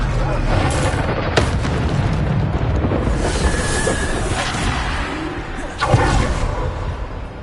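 Booming explosions from a Bombarda spell in the video game Hogwarts Legacy, heavy and loud with whooshing bursts, the strongest blast near the end amid dense in-game battle noise.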